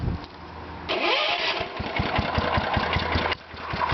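A Kohler Magnum 16 hp engine on a Bolens 1256 tractor, powered from another tractor's battery, cranks and catches, then runs with an uneven, knocking chug at close range, with no voices.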